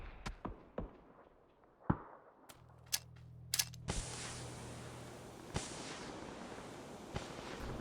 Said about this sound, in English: That nade will deal some damage